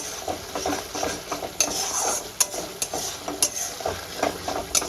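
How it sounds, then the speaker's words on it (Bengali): Onions sautéing in a pan for Punjabi-style rajma: a close, busy sizzle punctuated by quick metallic clinks and scrapes of a spatula stirring in rapid bursts. "পেঁয়াজটা খুব ভালো করে কষিয়ে নিতে হবে"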